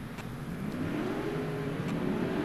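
A 1986 Ford Mustang drag car accelerates down an eighth-mile drag strip in a steady, loud engine roar that climbs in pitch over a couple of seconds, with no talk.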